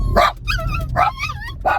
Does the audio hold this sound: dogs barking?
yes